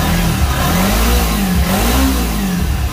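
A Kawasaki Ninja 250 engine being revved up close, loud and continuous, its pitch rising and falling in quick throttle blips with no voices over it.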